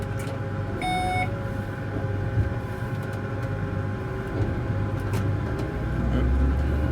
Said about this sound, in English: We're going to engage the rotor now.